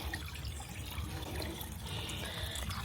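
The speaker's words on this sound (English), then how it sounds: "Literally a little babbling brook." Water babbling like a small brook, a continuous close trickle and burble with a steady bright wash and no voices over it.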